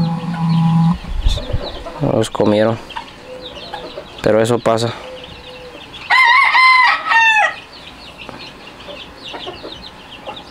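Backyard hens cluck and call in several loud, close bursts, separated by quieter moments, while a person speaks briefly near the start.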